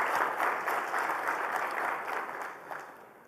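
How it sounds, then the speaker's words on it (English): Conference audience applauding, a steady wash of claps at moderate distance that holds for a few seconds and tapers slightly at the end. "So please join me in a round of applause for."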